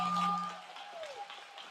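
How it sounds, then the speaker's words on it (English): Crowd at a political rally in Sarasota, Florida gives a brief round of applause, moderately loud and fading, with tonal hum and a voice faintly underneath. "Everyone give yourselves a round of applause"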